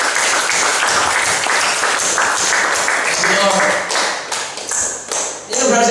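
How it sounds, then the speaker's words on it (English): A congregation at a Christian talk claps their hands in a loud, steady burst of applause that thins toward the end, with a speaker's voice breaking in at the close. "Can we give a clap of hands for that?"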